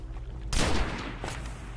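Weapon fire in the Destiny alpha, a sudden dense burst of shots that swells into a loud booming wash and then trails off.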